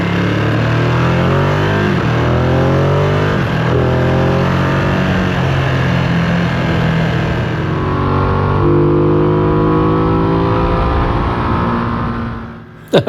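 A Ducati Streetfighter V2 motorcycle speeds up with a loud, continuous engine roar heard from on board. The pitch climbs through several gear changes over wind rush, then eases off near the end, with no talking.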